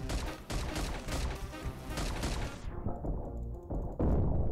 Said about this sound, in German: Da ist mir irgendwie ein Schuss losgegangen aus Versehen